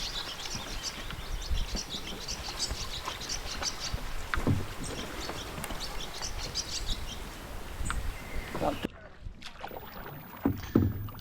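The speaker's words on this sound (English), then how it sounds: "a couple of good J strokes to get it running in a straight line, and now it's morphing into the Canadian stroke" Canoe paddling on open water, a few J strokes to set a straight course that shift into Canadian strokes, with soft paddle splashes and drips against wind and birdsong, close and steady.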